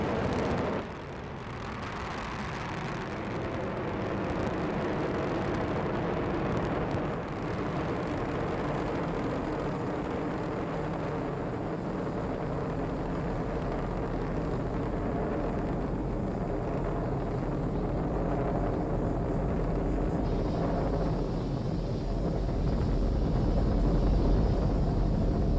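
SpaceX Falcon 9 rocket lifting off on a cargo resupply mission to the International Space Station, a sustained distant roar with deep rumble that swells and stays loud and steady for about twenty-five seconds.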